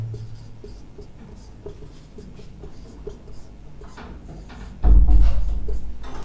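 Coordinates are written by hand, likely pen on paper, during a maths lesson: soft, irregular scratching strokes that run throughout, ending in a louder bump or rub near the end, with no talking.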